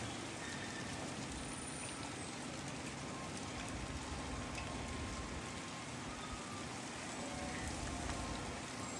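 Steady rain falls over rural farmland, a dense, even wash of drops at constant loudness throughout, with no voices.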